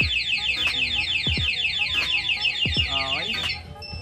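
A Honda Sniper 155 motorcycle's anti-theft alarm wails nearby in a loud, rapid electronic warble that loops continuously, with a few sharp chirping tones cutting through.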